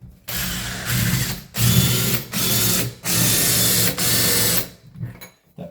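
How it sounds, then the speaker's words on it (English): A power drill with a 53 mm hole saw grinds through a door in four steady bursts of about a second each, separated by short pauses, close and loud. "Then we go to our 53 mil hole saw. We drill all the way through."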